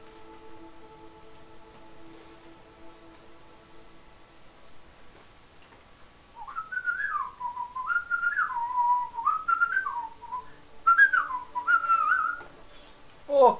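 A lone person whistles a wandering tune indoors, bright and close, in short melodic phrases after a quiet stretch with a faint steady hum and ticking in the background.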